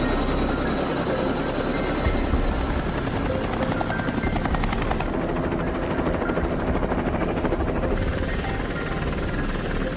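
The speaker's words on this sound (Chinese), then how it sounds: "挑战者驾驶直升机，利用固定在直升机右侧滑橇上的普通开瓶器打开啤酒瓶盖" Helicopter hovering at ultra-low altitude close overhead, its rotor chop and engine whine loud and constant for the whole stretch, no voices.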